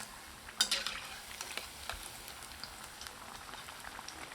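Quiet, crackling bubbles of cassava vada frying in oil, soft sizzling with scattered pops and a louder clatter near the start, no voices.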